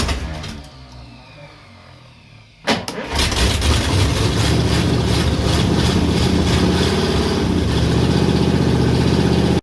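A 1955 Studebaker engine with no exhaust system cranks and catches, then settles into a loud, rough, unmuffled idle that rattles steadily close by.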